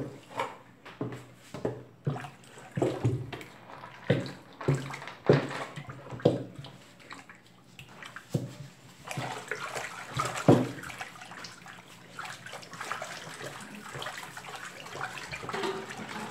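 Homemade bleach of caustic soda and water is stirred in a container, a series of irregular sloshing, splashing strokes repeating for several seconds, then a denser, continuous liquid churning; no one speaks.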